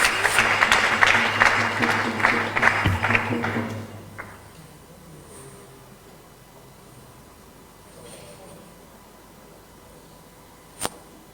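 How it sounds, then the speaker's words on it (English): An audience at an awards ceremony applauds a book distribution team, a dense burst of clapping for about four seconds that stops abruptly, leaving a quiet room with only a faint sharp click later. "So let's give them a round of applause."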